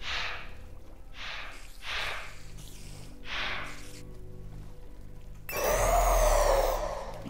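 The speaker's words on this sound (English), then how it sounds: "Yeah, that's the sound of a walker." Walker mob from the Hexxit Minecraft modpack, heard as several short, breathy grunting groans at a steady spacing, followed by a louder rough, noisy burst near the end.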